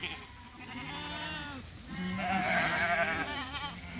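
Several sheep bleat in overlapping, wavering cries while being herded toward a corral, some nearer and louder, with a faint steady hum in the background.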